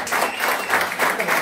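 A crowd applauding at a sports awards ceremony, a dense burst of many hands clapping, loud and continuous for a moment, with no voice over it.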